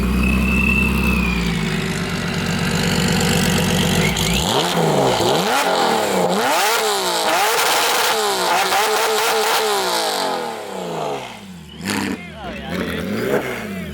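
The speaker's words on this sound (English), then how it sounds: "That's gotta be one of the craziest cars you've ever heard, dude. Insanely straight pipe V6." A loud, raspy straight-piped V6 car engine revs repeatedly in sharp rising and falling bursts, settling between pulls, with brief crackles near the end.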